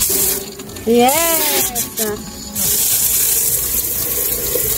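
Cold water running hard from a newly fitted Osculati pump-fed tap in a camper van: a loud, steady gush close by, broken briefly while a person speaks over it, then rushing on strongly to the end.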